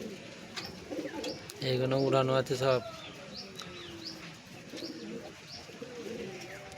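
Teddy pigeons coo in soft, throaty, rolling phrases nearby, with a louder cooing burst in the middle, while someone talks over the birds.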